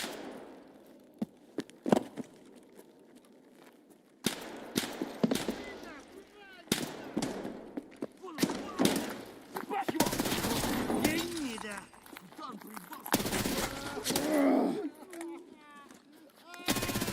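Gunfire in a shooter video game: bursts of rapid automatic fire and single shots crack in and out across the stretch, some sharp and near, some denser and rattling, with a voice talking quietly over parts of it.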